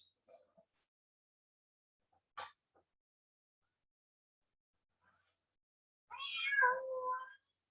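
A cat in a puzzle box gives one loud, close, drawn-out meow near the end, after a few faint clicks and scattered brief noises in otherwise near silence.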